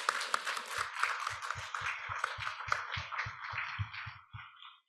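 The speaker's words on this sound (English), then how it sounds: "Please give a round of applause to them." Symposium attendees clap in a brisk stream of distinct handclaps that holds steady, then thins out and fades toward the end.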